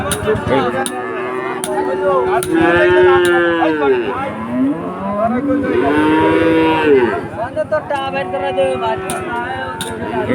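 Cattle moo loudly and repeatedly at a cattle market, long drawn-out lowing calls close by, with background murmur of people.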